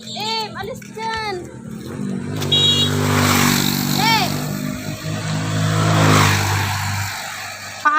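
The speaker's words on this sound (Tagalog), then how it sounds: "may motor na" A motorcycle approaches and passes by on a street, its engine swelling from a low drone to a close, loud pass before fading, with children and adults talking over it.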